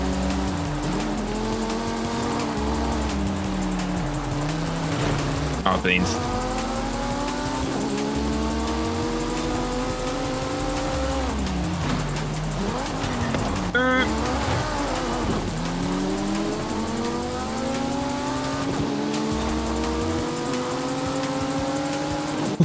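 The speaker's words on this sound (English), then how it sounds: "His engine is so loud in my ears." Race car engines roar continuously in Forza Horizon 5, rising and falling through gear shifts with a rival car close behind, tires squealing at moments, while a person talks briefly over the noise.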